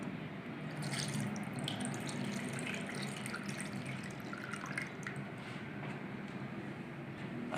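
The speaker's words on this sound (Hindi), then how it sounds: "1 कप दूध को ऐड करेंगे।" Milk is poured into eggless tea cake batter and mixed, giving a soft continuous liquid pour with faint drips and splashes at close range.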